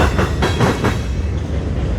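A train passes close by with rhythmic clickety-clack of wheels over rail joints and a loud rumbling roar, steady for the whole short stretch, with no voices.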